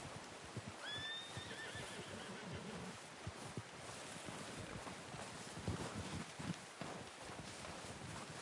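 A horse whinnies in Red Dead Redemption 2, a high wavering neigh near the start, followed by hoofbeats and steady wind-like ambience.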